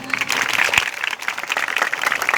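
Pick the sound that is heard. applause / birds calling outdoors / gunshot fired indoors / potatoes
applause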